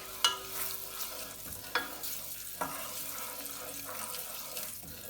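Salt and turmeric powder are stirred into hot oil for a green chilli pickle, the faint sizzle running steadily beneath several soft scraping strokes of a spoon against the pan.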